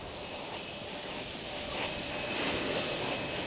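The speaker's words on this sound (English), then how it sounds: "Liftoff of the orbiter Challenger and the sixth flight of the space shuttle." Space Shuttle Challenger rocket liftoff on the sixth shuttle flight: a steady, dense, loud roar that swells slightly toward the end, with no voices.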